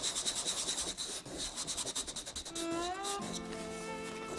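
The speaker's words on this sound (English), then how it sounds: "The surface is then carefully polished with sandpaper." Sandpaper rubs in steady strokes across a lacquered wooden surface coated with urushi, a close scraping rasp that gives way partway through to soft music.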